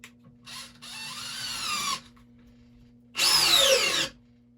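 Dewalt DCD703F1 cordless drill running at speed 2, driving a screw: two whirring bursts, the second stronger and rising in pitch under load, separated by a brief pause with a steady low hum between.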